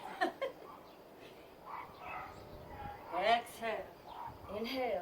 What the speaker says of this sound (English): Neighborhood puppies.